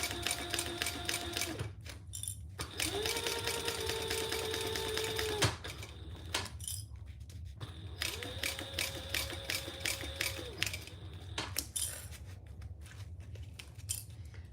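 A sewing machine stitches fabric accessories around curves, its motor running in steady bursts that stop and restart several times, close and fairly loud, with short pauses between seams.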